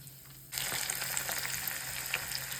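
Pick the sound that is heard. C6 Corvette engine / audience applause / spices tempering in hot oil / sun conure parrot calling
spices tempering in hot oil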